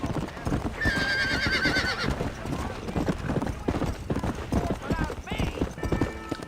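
A horse gallops in the Red Dead Redemption video game, its hooves clip-clopping rapidly and continuously under game music, with a short neigh partway through and a voice talking over it.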